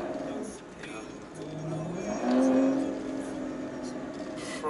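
A car engine revs up, its pitch climbing and holding, then easing back, heard close with some background noise.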